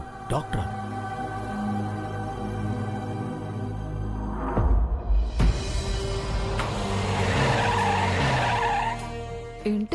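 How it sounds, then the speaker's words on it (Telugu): Several cars pull up at a house, with a tire skid and rolling engine noise rising midway through the scene, mixed under steady background music and talking. "ఇంటికి ఎన్ని కార్లు వస్తున్నాయేంటి?"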